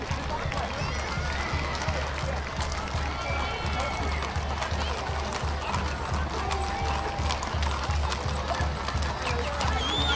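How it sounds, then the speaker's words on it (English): Many hooves of a mounted cavalry group clip-clop steadily on hard pavement during the 2023 Apple Blossom Grand Parade, a dense rhythmic clatter, with crowd chatter and talking mixed in. "I love the sound of the clip-clop on the pavement."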